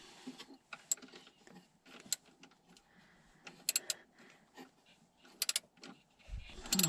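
Ignition coil screw being turned in by hand on a Ford F150 during a misfire repair: a close, quiet series of irregular ratcheting clicks and small mechanical ticks, ending with a louder knock.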